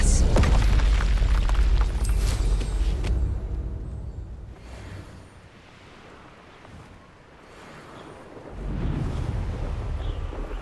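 Spell explosions from combat in the video game Hogwarts Legacy: a loud booming burst with rumbling low end over the first few seconds, fading to a quieter wash before another heavy rumble swells near the end.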